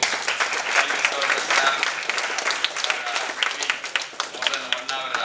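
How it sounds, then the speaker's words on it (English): An audience at an academic endowment lecture claps for the guest speaker, dense, lively applause with many individual hand claps that continues steadily throughout. "Shall you give a big clap to"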